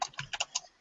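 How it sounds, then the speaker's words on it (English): A very old, loud computer keyboard clatters under a brief burst of typing, four or five quick, close key clicks in rapid succession. "this is what my keyboard sounds like"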